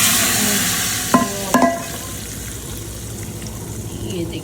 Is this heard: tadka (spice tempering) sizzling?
yes